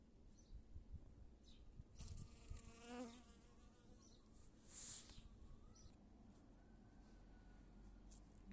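A bee buzzes close by while gathering pollen from flowers, its drone rising and falling as it moves, with a brief louder pass near the middle.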